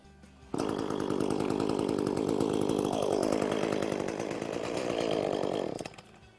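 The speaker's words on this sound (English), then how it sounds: "now I'm ready to start the chainsaw" A chainsaw catches from a cold start and runs at a loud, steady buzz for several seconds. Its pitch dips partway through, then it shuts off abruptly.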